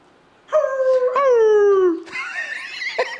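Drawn-out canine howls rise and fall close and loud, one long wavering howl followed by a second overlapping voice, with no talking.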